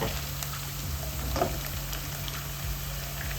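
Sliced onion and potato sautéing in a pan for a curry to serve with chapati, a soft even sizzle under a low steady electrical hum, with faint occasional ticks and no talk.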